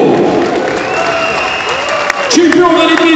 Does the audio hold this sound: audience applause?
yes